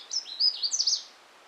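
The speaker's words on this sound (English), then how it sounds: "Canada warbler in the distance," Canada warbler singing at a distance, likely from a damp thicket in woods of beech, birch and balsam fir: one short, rapid, jumbled burst of high chirping notes, faint and alone.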